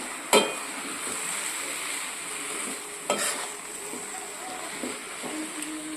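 Vegetable stuffing with sprinkled coriander leaves being stirred in a pan for stuffed chapati, a few sharp spoon scrapes against the metal over a faint steady sizzle.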